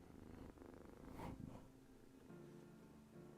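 A kitten purrs steadily on a lap close by, a soft continuous rumble with a brief louder swell near the middle, over faint room noise.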